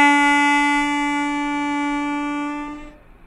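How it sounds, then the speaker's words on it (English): A single sustained reedy harmonica note, hole one drawn, held steady and bright for about three seconds before fading out. "And 1D sounds like this."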